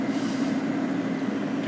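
An air fryer runs with a steady, loud broadband whoosh of blowing air, graham crackers tumbling inside, a continuous even roar with no talk.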